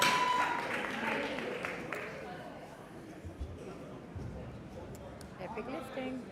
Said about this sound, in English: the crowd here is applauding him for his opener